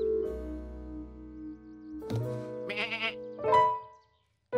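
Several cartoon sheep eating grass bleat in turn, long wavering cries followed by shorter, shakier calls, close and fairly loud, ending in a brief pause.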